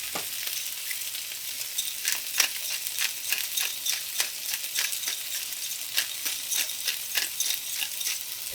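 A beef patty sizzles steadily in a hot frying pan, with a constant bright crackle and dense popping that carries on evenly throughout, close and moderately loud, with no talking.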